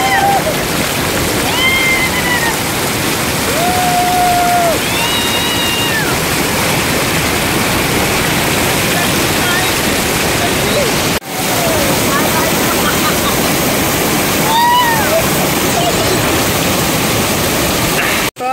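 Steady broadband wash of rain falling at the Kandwan dam, loud and continuous for the whole stretch, with occasional bird calls and faint voices over the hiss.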